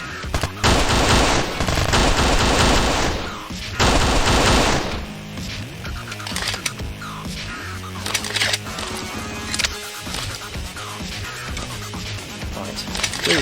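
Sustained rifle gunfire in the 2013 first-person shooter Kshatriya: Prologue, loud rapid automatic bursts dominating at first, then thinning into scattered shots beneath background game sounds.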